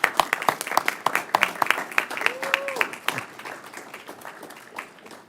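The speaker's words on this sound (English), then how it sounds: "today, honestly, we need to applaud you" Attendees at a Miami-Dade Expressway Authority board meeting applaud with a scattered run of sharp claps that thin out and fade toward the end, with a brief tonal squeak and some murmured talk mixed in.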